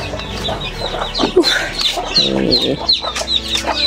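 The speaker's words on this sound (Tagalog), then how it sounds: "Grabe yung manok ko tol" Several chickens clucking close by on a Philippine backyard farm, a busy overlapping chorus of short clucks and squawks that rises and falls over a few seconds.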